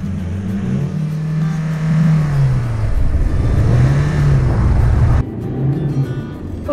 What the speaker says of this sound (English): Of course, redlining it.